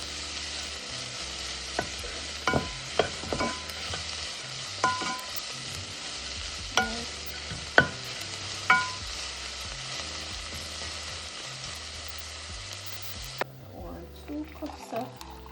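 Onion, scallion and thyme frying in a pot for Jamaican pumpkin rice give a steady sizzle throughout, broken by a few sharp clinks and stirring knocks. A voice talks quietly over it, and near the end the sizzle drops away.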